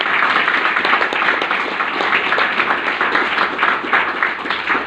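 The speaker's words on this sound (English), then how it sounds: "Can you give them a big round of applause?" Audience applause at a council-related evening gathering hosted by the RSL in Toowoomba, a steady wash of many people clapping, fairly loud and continuous throughout, with no speech over it.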